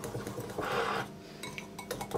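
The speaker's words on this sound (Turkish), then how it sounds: "Bunları bir çırpayım." Spices, thyme, milk and salt whisked together in a bowl, a quick run of light clinking and scraping strokes from the whisk against the bowl, close and fairly quiet.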